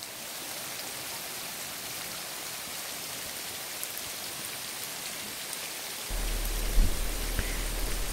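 Heavy rain at Kawah Ratu crater, a steady dense hiss of downpour without speech, which grows louder and fuller toward the end.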